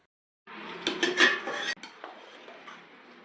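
Metal utensil scraping and clinking against a cooking pot while biryani masala is stirred, a few clattering strokes close by, then quieter scraping as the stirring slows.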